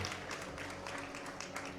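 A crowd at a DreamHack Summer 2012 League of Legends event claps and cheers in a dense, steady wash of applause that fills the whole moment, heard from within the hall.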